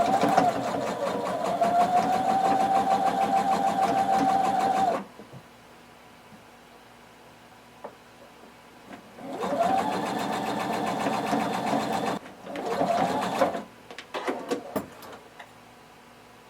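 A sewing machine stitches close to the edge of a hem on a tank top in steady whirring runs, with a long burst, a pause, then two shorter bursts and a few brief clicks near the end.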